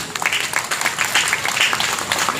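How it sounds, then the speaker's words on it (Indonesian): At the launch event for Asa Indonesia University, a crowd claps in a brisk, sustained round of applause, many hands at once in a steady patter that carries through without any speech. "Saya rasa kita perlu tepuk tangan untuk itu."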